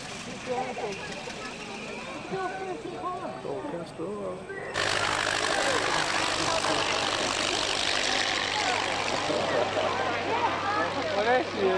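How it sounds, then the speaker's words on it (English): A vintage aircraft's rotary engine at an old airfield, first heard farther off under crowd noise, then roaring up to a loud, steady, buzzing drone that holds for the rest of the stretch. "There's the rotary engine getting into the tunnel."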